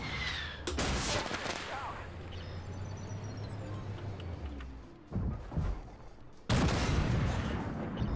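Chieftain tank cannon fire in the Armoured Warfare video game: two heavy, loud blasts several seconds apart, with a steady low engine rumble between them.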